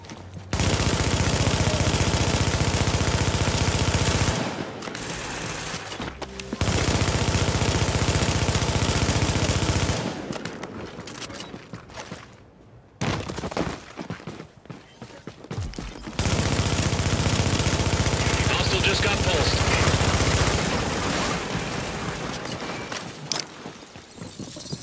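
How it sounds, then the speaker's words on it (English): Sustained automatic gunfire pounds a fortification in Tom Clancy's The Division on PlayStation 4, long loud bursts broken by short lulls of engine rumble and scattered shots. "Hostiles are firing on our fortification."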